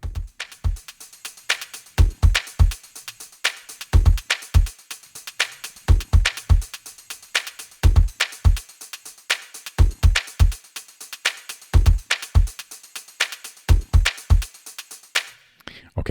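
A drum rhythm-section loop from a song in progress plays alone: punchy kicks and crisp hits repeat in a steady groove, loud and close.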